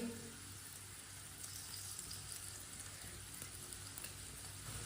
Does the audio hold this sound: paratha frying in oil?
yes